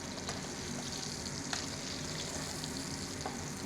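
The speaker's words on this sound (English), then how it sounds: "When you start to see the browning on the sides, you start to baste your fish." Fish fries in a hot pan while being basted with butter, giving a dense, continuous sizzle with faint crackles and no voices.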